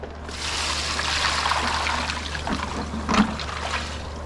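Water poured out of the canister of a Fluval FX6 filter from a saltwater aquarium, a steady close splashing trickle that runs unbroken for several seconds with a few small gurgles.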